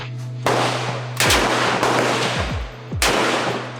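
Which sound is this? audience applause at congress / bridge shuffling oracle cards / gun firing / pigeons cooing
gun firing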